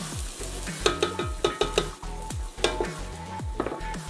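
Onion frying in a pan with garlic for an Italian seafood soup, cacciucco livornese, crackles over a steady sizzle while a utensil stirs with repeated scraping strokes close by.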